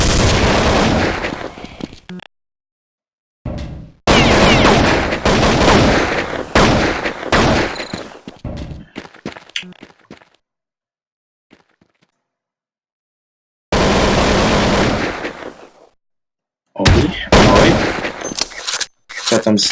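Counter-Strike 1.6 gunfire comes in loud, dense bursts of rapid shots, broken by long silent gaps and followed by further volleys.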